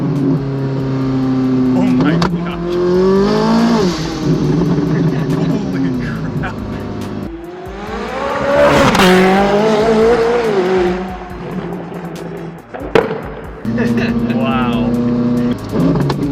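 A supercar's exhaust roars through launch-control runs, engine note climbing hard in loud rising sweeps, dropping between pulls, with excited exclamations from people inside the car between the bursts.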